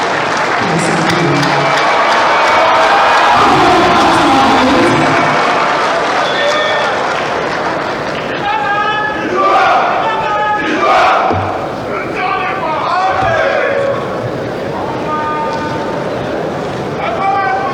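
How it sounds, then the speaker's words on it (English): Audience at a South East Vision 2050 forum applauds and cheers loudly and steadily, a dense crowd roar that fades into a voice speaking over a PA system in the latter half. "Do I hear your applause?"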